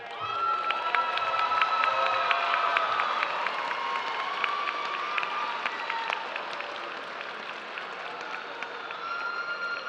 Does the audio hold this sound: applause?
yes